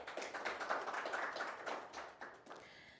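Scattered applause at a partnership ceremony for Namibia's national teams, fairly faint and distant, a few minutes of uneven hand claps that thin out and fade after a couple of seconds.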